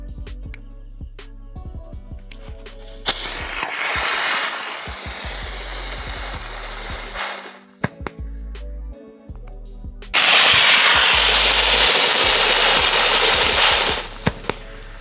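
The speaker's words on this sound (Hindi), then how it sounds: "तो दोस्तों ये है टू फाउंड रॉकेट जो कि बहुत ज्यादा ऊंचाई तक जाता है" A Diwali firework rocket is lit and sent across water, giving two long, loud fizzing hisses of several seconds each, separated by a quieter stretch, with no speech.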